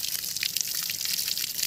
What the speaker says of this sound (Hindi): और पानी ऐसे बहुत स्पीड में चल रहा, तुरंत ही हो जाएगा